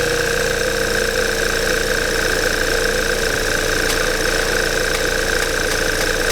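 A Volvo V70 flexfuel petrol engine, reassembled after head gasket work, runs with a steady mechanical drone and a rough knocking pulse, loud and close, with no pauses or talk.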